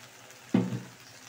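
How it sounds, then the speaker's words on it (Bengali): About half a cup of water poured into a pan of Bengali prawn curry, chingri macher jhal, giving one sudden hissing splash that fades over a fraction of a second against quiet background. "এখানে আমি হাফ কাপের মতন জল অ্যাড করলাম।"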